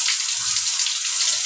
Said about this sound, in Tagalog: pag binuksan mo yung gripo is, pansin mo, parang kalat yung takbo ng tubig, hindi ka diretso